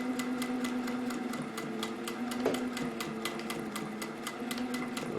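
Sewing machine stitching a cotton face mask with a filter pocket, a steady rapid needle rhythm running continuously and fairly close with no talk.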